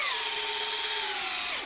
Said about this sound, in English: if you got a cordless drill, this works great